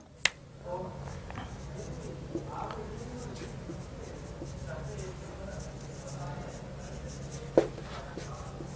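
A pen or marker writes out a physics definition on a board, making faint scratchy strokes and a couple of sharp taps, heard close against a steady low background hum.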